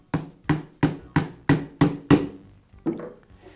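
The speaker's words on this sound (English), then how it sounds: "use a rubber mallet to get it started onto the shaft" A rubber mallet taps a new motor fan onto the shaft of a Bostitch air compressor, with seven evenly spaced, dull knocks close up, followed by a couple of softer taps after a short pause.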